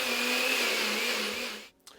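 An electric blender whirs steadily as it purées onion, scallion, parsley, thyme, ginger and garlic into a paste for Jamaican curry goat, running loud and close for about a second and a half before cutting off abruptly.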